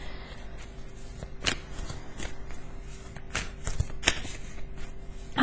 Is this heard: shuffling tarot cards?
yes